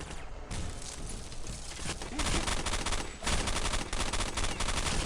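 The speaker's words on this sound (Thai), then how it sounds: "อุ้ยมันยิงเข้ามา มันยิงเข้ามา" Dense gunfire in a Counter-Strike: Condition Zero Deleted Scenes mission, with loud overlapping rifle and automatic bursts rattling almost continuously and brief lulls near the start and middle.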